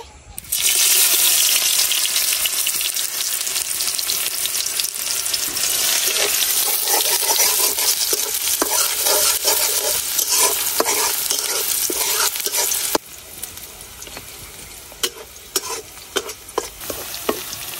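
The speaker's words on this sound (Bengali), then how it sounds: "এখন দিয়ে দিতেছি পেঁয়াজ কুচি" Chopped onion frying in a wok for a village fish-head and potato curry, a loud, dense, continuous sizzle with constant stirring scrapes that drops sharply in level toward the end, followed by scattered clinks.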